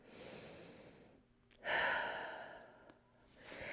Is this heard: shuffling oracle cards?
no